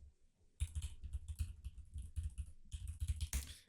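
Fingers type on a computer keyboard, a close, quick run of clicking keystrokes starting after a brief pause, with uneven rhythm and a few louder taps near the end.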